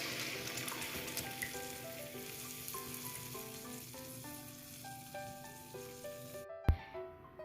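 Leftover chicken masala marinade sizzles in hot butter in a kadai for Afghani chicken gravy. A quiet, steady frying hiss runs under soft background music, with a sharp clatter near the end.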